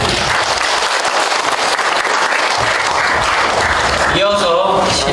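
Audience applause for the mayor at a town residents' meeting in Baeksa-myeon, Icheon: dense, sustained clapping from a large crowd fills the whole stretch at full volume, tapering slightly near the end.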